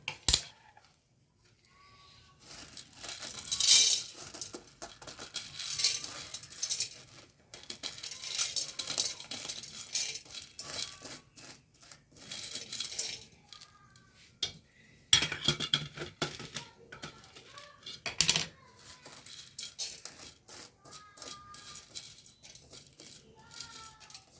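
Chana dal dry-roasting in a pan for homemade sambar powder, with dry lentils rattling and scraping under a stirring spoon in bursts of gritty clinks and metallic scrapes, fairly close, no voice.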